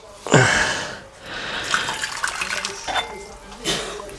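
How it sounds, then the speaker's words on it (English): Water, 500 ml, is poured into a bowl in a kitchen, giving splashy bursts of pouring that swell and fade in several waves. Quiet background sounds sit beneath the water. "500 mil of water in the bowl"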